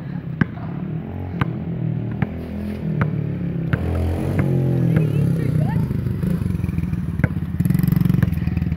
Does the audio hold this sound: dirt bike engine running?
yes